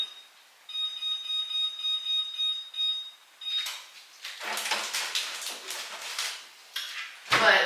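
Switching on a kitchen oven brings a run of short electronic beeps from the control panel, followed by louder clattering of dishes and pans nearby.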